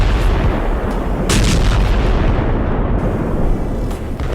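Heavy booming explosions in Doha, Qatar, loud and close, layered over a continuous rumbling roar with sharper bursts cutting through.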